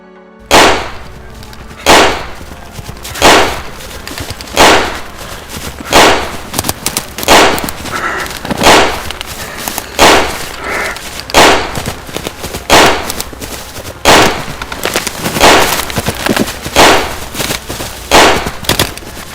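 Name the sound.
gunshot sound effect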